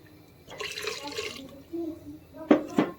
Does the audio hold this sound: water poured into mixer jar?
yes